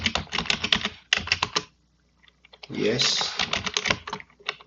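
Someone types a password on a computer keyboard in fast bursts of crisp key clicks, pausing briefly in the middle before the tapping resumes, while a voice speaks a short word near the start of the second burst.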